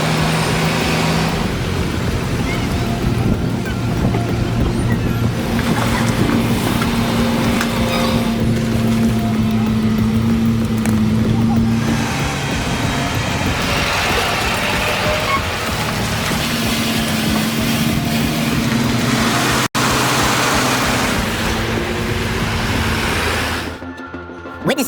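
Heavy haulage trucks hauling massive loads of up to 250 tons for a Dubai solar park rumble with a low, steady engine drone and a droning tonal whine that rises and fades, continuous and fairly loud before cutting off near the end.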